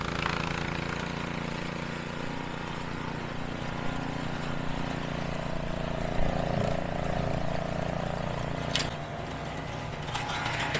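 An Ariens Pro 28 Hydro RapidTrak snow blower runs as a loud, steady engine drone while clearing snow and slush outdoors, continuous and close for the whole stretch.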